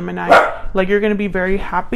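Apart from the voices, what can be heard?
dog barking in the background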